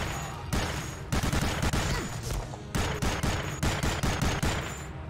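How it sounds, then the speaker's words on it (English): Rapid bursts of gunfire ring out from a truck in the video game Medal of Honor: Allied Assault, loud and near, with volleys packed closely together across the whole stretch. "I'm in the truck, shooting a bunch of guys."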